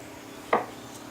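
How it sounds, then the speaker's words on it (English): A knife makes a single quick, close cut through hot baked vegetables on a board, a short crisp crunch with quiet room tone before and after. "I'm going to cut them into slices like this."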